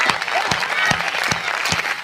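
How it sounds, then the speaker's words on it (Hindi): An audience at a comedic poetry performance claps in a short burst of brisk, moderately loud applause, with a voice faintly audible underneath. "तालियों में कंजूसी क्यों कर रहे हो?"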